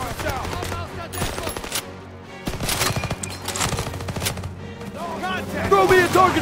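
Loud World War II battle gunfire in Call of Duty WW2, bursts of rifle and machine-gun shots in irregular volleys with shouted voices mixed in, building to a heavier barrage at the end.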